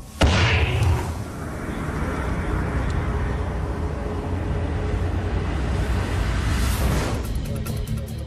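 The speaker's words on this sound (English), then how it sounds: "We're going to light off the charges inside, blow the can up into the air" Explosive charges blast a spacecraft simulator can into the air, producing a sudden loud burst followed by a sustained, rumbling roar that lasts several seconds before dying away.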